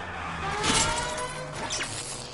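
A car drifts in the L.A. Noire video game, its tires squealing in rising and falling skids over a steady engine roar, loud and close, with no talking.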